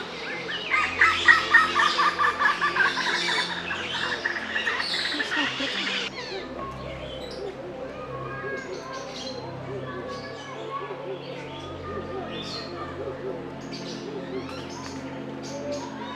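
Birds call in a South African bird park, where turacos are among the birds, with bright chirps and tweets that are loud at first and then fade into softer, scattered calls over a steady background.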